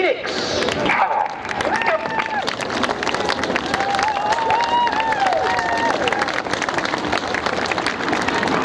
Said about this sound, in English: let's have a huge patriotic round of applause as they come in Phoenix